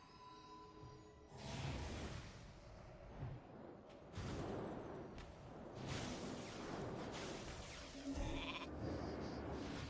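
Sheep bleats from a polymorph spell in a World of Warcraft PvP arena match, a few wavering bleats mixed with whooshes and thumps of spell effects amid busy game noise.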